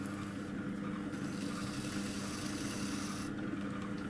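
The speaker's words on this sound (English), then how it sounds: "I'll just burnish it with my finger." A finger burnishing the rough rim of a medium-sized clay bowl on a pottery wheel gives a soft, continuous rubbing hiss over the steady hum of the spinning wheel, quiet and unbroken.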